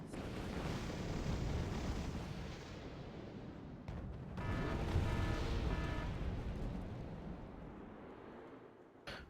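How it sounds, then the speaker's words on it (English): Airstrikes pounding the ground in Wargame AirLand Battle, a continuous rumbling barrage of deep explosions swelling and fading, heavy and somewhat distant, with no talk. "you can see that the airstrike keep coming"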